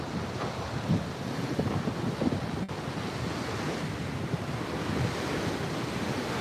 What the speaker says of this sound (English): with this tide coming in, these waves are going to get bigger and bigger and smash against the headland even harder